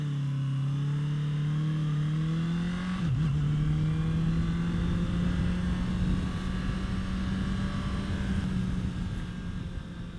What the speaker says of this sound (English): I tell you what, that engine, when it starts screaming, that is a nice sound.